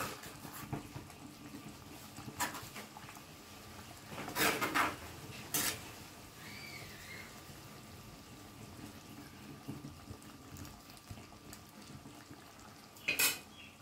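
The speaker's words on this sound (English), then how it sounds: "Mix the curry." A spoon stirs vegetable curry in a cooking pot, with quiet intermittent metallic clinks and scrapes against the pot over a soft background, a few sharper knocks spaced across the stretch.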